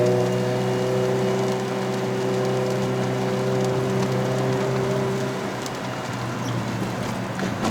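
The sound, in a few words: rain while driving a Suzuki Swift Sport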